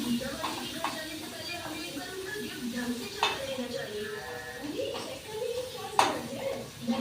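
Onion goes into a hot pan on a home stove, giving a light sizzle with scattered clinks of a spatula and utensils against the pan while a person talks over it.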